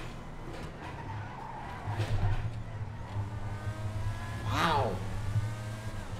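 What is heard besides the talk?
Deveste Eight supercar driving, from video game GTA 5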